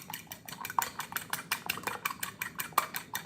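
Salt, onion powder and garlic seasoning being mixed in a bowl, heard as a quick, regular run of light utensil clinks and scrapes, close by and moderately quiet.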